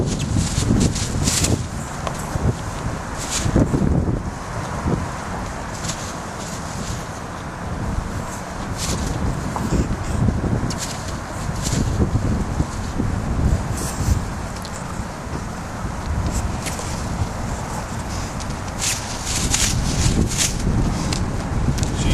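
Strong wind gusts across an outdoor training arena, a steady roaring rush with scattered rustles and faint movement beneath, continuing throughout.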